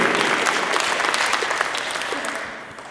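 An audience at a Quebec City hackathon applauds a competing team with dense, steady clapping that fills the room and tapers slightly toward the end, with a few voices mixed in.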